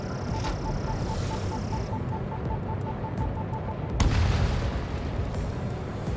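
Anti-air fire and explosions rumble in the Ace Combat 2 video game, a dense continuous roar of gunfire and blasts with a sharp heavier boom partway through, loud and steady.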